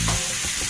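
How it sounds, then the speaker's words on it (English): Sweet Italian peppers fry in bacon fat in a pan, giving a steady, close broadband sizzle with a brief low thump near the start and no talking. "We're also going to throw in our peppers. These are sweet Italian peppers."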